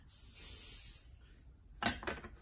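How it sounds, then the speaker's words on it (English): Spray adhesive hisses from a can in a steady, fairly close burst, followed by a short, sharper spray and faint handling noise. "So I'm going to spray it again with some adhesive."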